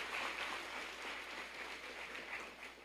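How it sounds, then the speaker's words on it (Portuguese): A church congregation claps together during a worship service, a steady, fairly faint wash of many hands with no one speaking over it. "Vamos aplaudir Jesus bem bonito."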